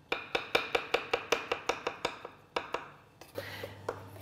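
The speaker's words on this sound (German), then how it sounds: "Während unser Lamm im Ofen ist, schneiden wir schon mal grüne und schwarze Oliven als Dekoration in kleine Ringe." A knife slices green and black olives into small rings on a board in steady, evenly spaced taps, then pauses briefly before a few more cuts and a soft hum.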